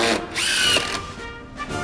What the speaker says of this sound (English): this one incorporates a small hammer action to drive the screw home